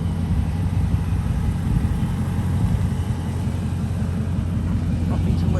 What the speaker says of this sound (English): I think I'm gonna cut the car off.